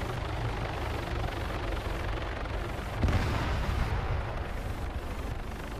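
Gunfire rattles across a noisy Arma 3 battlefield, with dense continuous crackle and rumble and a louder burst partway through, all at a distance with no talk.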